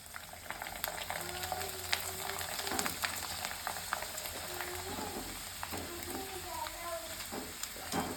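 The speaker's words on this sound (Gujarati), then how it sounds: "હું લઉં છું આ પાપડી થોડી ઘણી આ પાપડી આપણે તરીએ" Papdi frying in hot oil in a home kitchen, a steady dense sizzle and bubbling crackle that runs throughout at moderate level, with faint voices in the background.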